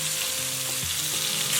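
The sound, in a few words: meat-stuffed bamboo shoots pan-frying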